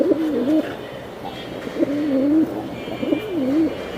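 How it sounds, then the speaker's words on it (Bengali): Giribaz pigeons coo in three repeated rolling, warbling phrases, close and clear against faint background noise. "বাহ 2টা কবুতর ভাই আল্লাহর রহমতে সুন্দর"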